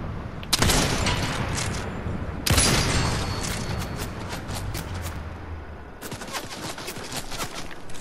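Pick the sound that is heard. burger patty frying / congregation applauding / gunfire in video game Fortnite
gunfire in video game Fortnite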